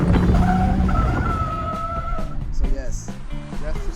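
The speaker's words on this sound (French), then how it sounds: "alors on freine." Renault Modus braking hard for a stop sign, tires squealing in a sustained skid for about two seconds, followed by engine and road noise, with someone talking over it.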